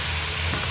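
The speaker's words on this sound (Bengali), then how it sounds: "পেঁয়াজ মরিচ ভাজা হয়ে গেছে, এখানে আমি দিয়ে দেবো বটবটি।" Onion and green chilli frying with whole cumin and chopped garlic in a pan, a steady close sizzle filling the short moment with no voices.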